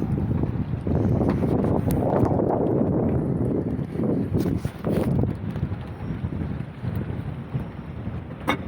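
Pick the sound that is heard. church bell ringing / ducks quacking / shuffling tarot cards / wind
wind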